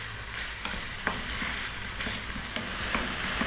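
Onion and ground beef frying over above-medium heat in a pan, a steady close sizzle with a few soft scrapes and taps from stirring, no voices.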